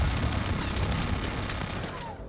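Rapid gunfire in Rainbow Six Siege aimed at a turret, a dense continuous burst of overlapping shots that fades out at the end.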